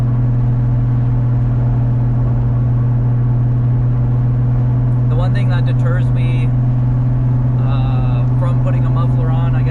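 Toyota JZX100 Chaser with a turbocharged engine, a steady low droning engine note running throughout while driving, with someone talking over it partway through.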